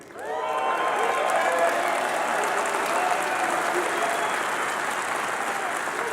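An audience at a Teamsters National Convention speech bursts into sustained applause that starts abruptly and holds steady and dense throughout, with some cheering mixed in.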